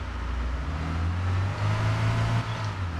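A Transit van engine drones as the vehicle climbs a hill in the video game Arma 3, a steady low motor hum that lifts slightly in the middle, with no talk over it.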